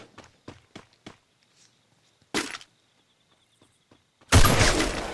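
Gunfire in the battle royale game Free Fire: light footstep-like taps and a short crack come first, then a loud, dense burst of shots fills the last second.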